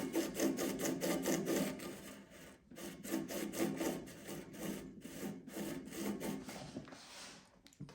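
An acoustic guitar saddle is sanded on the wheels of an Elmer nut and saddle sanding tool, a continuous close rasping rub moving back and forth in rhythmic strokes with brief pauses, with no talking.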